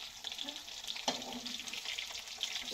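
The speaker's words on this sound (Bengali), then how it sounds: "মাছ ভাজা লাউ দিয়ে রান্না।" Fish frying in a village kitchen, to be cooked with bottle gourd, gives a faint, steady sizzle with a brief clatter near the middle, a quiet voice murmuring underneath.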